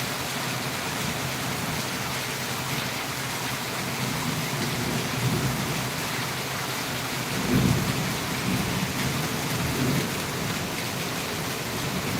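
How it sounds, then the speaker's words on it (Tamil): Heavy evening rain pours steadily during a thunderstorm in Valliyur, a constant dense hiss with a deep rolling thunder rumble swelling near the middle, no voices. "அங்கே ரொம்ப மழை விழுது"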